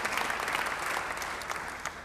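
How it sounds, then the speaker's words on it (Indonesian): A church congregation breaks into steady, dense applause, loud and sustained with no pause from start to finish. "Beri tepuk tangan yang baik bagi Tuhan."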